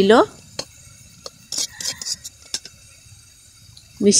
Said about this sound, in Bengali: এখন এই আলু পেঁয়াজ দিয়ে হলুদ আর লবণটা দিয়ে খুন্তি দিয়ে নাড়িয়ে চাড়িয়ে সুন্দরভাবে মিশিয়ে